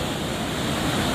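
Ocean waves surging around a small boat whose engine has died at sea, a loud continuous wash of water and wind noise with no engine sound.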